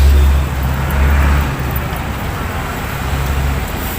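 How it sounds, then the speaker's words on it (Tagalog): Busy roadside traffic in Manila near Luneta Park, with traditional jeepneys and other vehicles rumbling past, a loud continuous wash of engine noise swelling as vehicles go by close. "busy-busy itong lugar naman guys. Ang daming mga sasakyan dumadaan."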